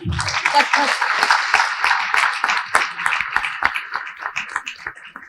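A crowd applauds a young Bharatanatyam dancer at a Karni Sena foundation day gathering, with dense, steady clapping from a large audience and murmuring voices mixed in.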